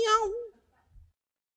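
A person imitates a cat's meow with one short, bright, wavering vocal meow, followed by a faint low thump and then silence.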